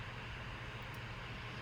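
A helicopter flying during a release in a Hawaiian forest gives a steady low engine drone with a continuous rumbling wash, moderately distant and unbroken, with no voices over it.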